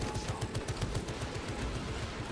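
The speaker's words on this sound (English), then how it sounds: "Activating tarantula sentry gun." A tarantula sentry gun firing in a video game, heard as a fast, steady rattle of rapid automatic shots, fairly faint and continuous for a couple of seconds, with no voice over it.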